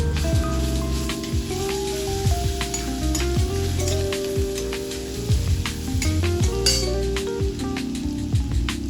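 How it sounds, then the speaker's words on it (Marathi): Chili, garlic and ginger paste sautés in hot oil in a kadhai, giving a loud, continuous crackling sizzle punctuated by frequent metallic clinks and scrapes of a stirring spoon, close up and with no speech. "त्यामध्ये मी ते वाटण टाकून चांगले परतवून घेणार आहे."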